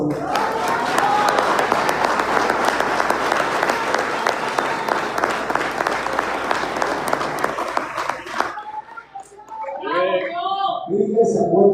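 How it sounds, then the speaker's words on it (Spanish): Church congregation applauding loudly and steadily for about eight seconds, a dense wash of clapping that stops abruptly, followed by someone speaking. "Doy un aplauso a Dios."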